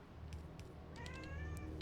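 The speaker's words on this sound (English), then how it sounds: "Oh my god, the cat is so meow." A pet cat named Emma meows in a series of quiet, drawn-out cries, close by and alone with no talk, over a soft low background hum.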